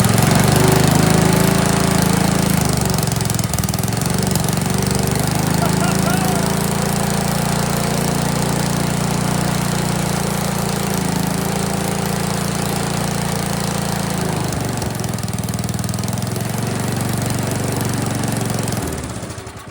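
An Ariens ST724 snowblower engine runs steadily and loudly close by, a continuous rough mechanical drone with a slight uneven knock, lasting the whole stretch without pause.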